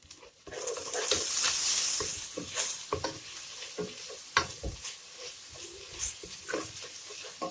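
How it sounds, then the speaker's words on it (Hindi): Garlic ginger paste sizzling and spattering in hot oil, with scraping stirs and occasional sharp crackles, close and moderately quiet. "अब मैं इसमें लहसुन अदरक का पेस्ट डाल दूँगी"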